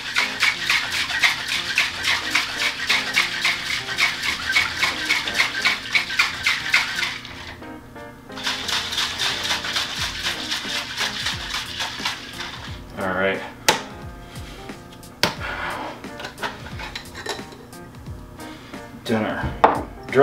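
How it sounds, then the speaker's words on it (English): Egg nog dry-shaken hard in a cocktail shaker, a rapid, even rattling rhythm for several seconds, pausing, then resuming before trailing into scattered knocks and clatter. "we are going to give this a very vigorous dry shake"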